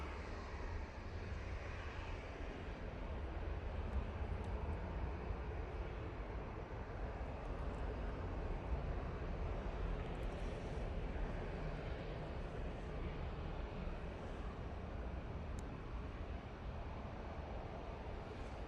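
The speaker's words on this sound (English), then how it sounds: "EasyJet is spooling up" An easyJet jet airliner spools up at Manchester Airport, giving a steady, fairly faint broadband roar with a low rumble that holds evenly throughout.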